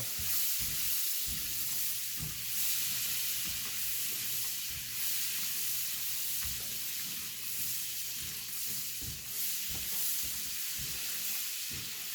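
About four tablespoons of butter melt in a hot pan, giving a steady, close sizzle and crackle with small pops scattered through it. It runs continuously at an even, moderately loud level.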